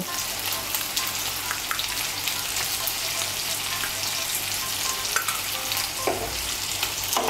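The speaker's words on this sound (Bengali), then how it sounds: "মিশিয়ে নিয়ে আলু আর গাটি কচুটাকে ভেজে নেব" Potato and taro pieces frying with salt in a pan, a dense, continuous crackling sizzle with faint occasional stirring clinks, steady and close throughout, no voices.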